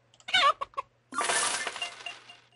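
Chickens clucking in a farm video game, a few short clucks followed by a longer, louder squawking burst, heard alone and close.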